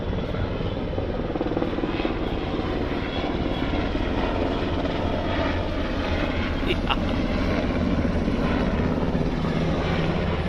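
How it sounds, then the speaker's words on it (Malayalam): Loud, continuous rotor thump and engine roar of a military helicopter passing overhead, holding steady throughout with no talk. "മിലിറ്ററിൻ്റെ ഹെലികോപ്റ്റർ കേട്ടോ ഗൈസ്. ഒന്നാ പോണ് ഗൈസ്."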